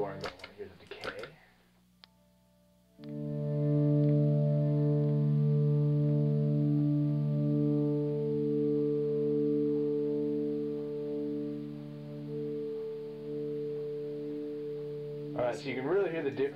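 Electric guitar swells through a Boss DD20 delay pedal in loop 6 mode, building into sustained, stacked tones that hold and slowly decay, with talking before and after the passage.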